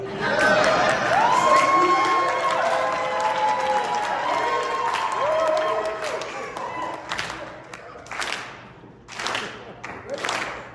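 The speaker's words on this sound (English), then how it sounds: "if you guys can put your hands together" Cheering and applause from a convention crowd at a Revenge of the Nerds panel in Las Vegas, loud whoops and clapping that thin out into scattered bursts and shouts toward the end.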